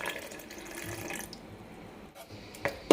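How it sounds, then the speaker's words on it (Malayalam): Water runs into a vessel of ground rice batter in a short, close, fairly soft stream. The flow fades after about a second, leaving quiet dribbles and a small clink at the end. "കുറച്ചുകൂടി വെള്ളം ഒഴിക്കാം"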